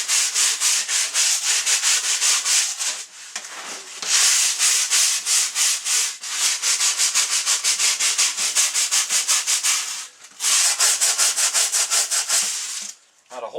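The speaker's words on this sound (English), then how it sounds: "I scrape the wax off" Wax being scraped by hand off an elk taxidermy form. A close, loud, rhythmic rasping repeats in long runs of quick strokes, with brief pauses between passes and no voices.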